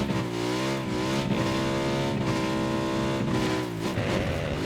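A motorcycle engine in the battle-royale game PUBG revs and drones loudly and continuously, pitch rising and falling as the rider accelerates and shifts, with brief dips between pulls.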